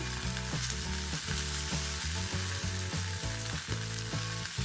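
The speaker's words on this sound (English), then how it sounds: "I actually like to caramelize all sides of my steak." A steak sears on its side in copper cookware, a continuous bright sizzle of fat and meat running beneath a louder layer of background music.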